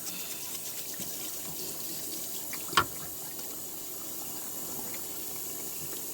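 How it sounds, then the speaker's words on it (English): Dentures rinsed under a running tap in a sink, a steady close hiss of flowing water throughout with one brief knock or clatter midway, no talking. "Now you rinse it."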